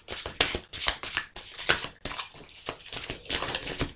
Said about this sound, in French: je vais aller chercher quelques cartes.